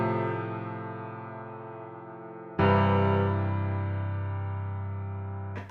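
A plain chord progression played as a music example on a sustained, synth-like keyboard tone: two long held chords, the second struck louder and slowly fading, with no talking.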